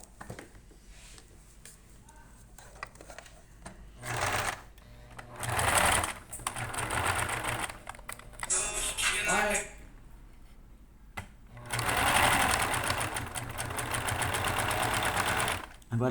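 A sewing machine stitches the hem of a doll's skirt in several loud, close bursts of rapid mechanical whirring, separated by pauses with someone talking and small handling clicks.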